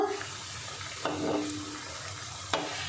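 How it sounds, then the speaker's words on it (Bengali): Egg and flour rolls frying two at a time in oil over medium heat, a steady soft sizzle with a couple of sharp scraping or stirring knocks partway through, close up and with no talking. "আমি 2টো করে রোল ভাজবো, আর উপর থেকে একটু এরকম তেল ছিটিয়ে দেব, দিয়ে ভেজে নেব।"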